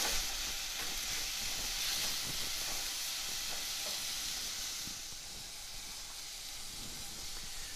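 Rehydrated wild mushrooms, shallots and onions sautéing in a pan, a soft hissing sizzle that runs steadily and eases slightly toward the end, faint and close with no talking.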